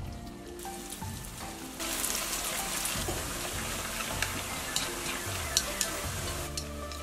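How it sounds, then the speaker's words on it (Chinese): Dough pieces deep-fry in hot oil over medium-low heat, giving a steady, dense sizzling crackle with scattered sharp pops, under soft background music. "中小火慢慢的炸，直到全部浮起来"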